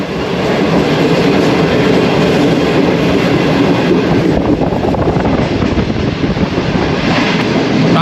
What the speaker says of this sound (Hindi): ट्रेन हमारी चल रही है